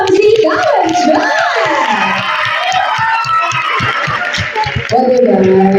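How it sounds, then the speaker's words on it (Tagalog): A crowd at an eighteenth birthday celebration claps and cheers loudly and close, shouting and whooping in a dense, continuous wash of applause, with children's voices mixed in. "isang malakas na palakpakan na may kasamang sigawan dyan!"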